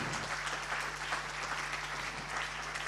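A crowd at a Paralympic sports gala in Veneto applauds steadily, a dense wash of clapping from many hands sustained throughout, moderately close, with a faint low hum beneath and no speech.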